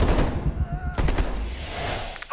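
Heavy machine gun fire in the Call of Duty Black Ops Cold War campaign, rapid bursts cracking loud and close over a dense battlefield rumble, with a brief whistling tone early on.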